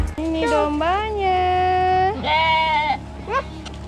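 A sheep bleats loudly and close by at a livestock farm in a long wavering cry, followed by a second shorter bleat, with a low rumble in the background.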